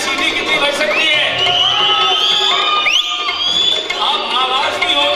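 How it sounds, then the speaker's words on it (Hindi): A large audience at a music night whistles, cheers and shouts together, with sharp rising whistles cutting through a loud, continuous crowd roar. "अब मैं चाहूंगा जरा सीटी बजाकर बताएं सीटी कितनी बज सकती है।"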